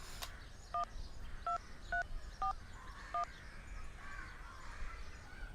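A telephone number is dialed, giving five short, quiet keypad beeps at uneven intervals over soft background noise.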